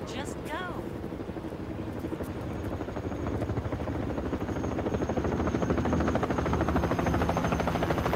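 A Dauphin helicopter flies close overhead, its steady rotor thump and turbine whine growing louder across the clip while people talk over the noise.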